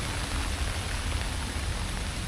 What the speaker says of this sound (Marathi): बघा पाऊस पण खूप पडतोय.